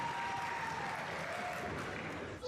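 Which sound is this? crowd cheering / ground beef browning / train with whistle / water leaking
crowd cheering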